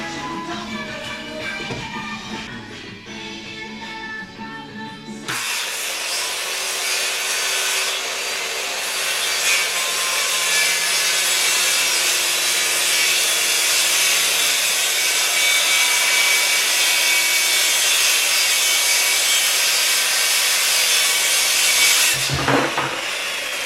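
Sustained rasping of a saw cutting through wood, loud and close, running for many seconds after a brief lead-in of other noise, then stopping abruptly.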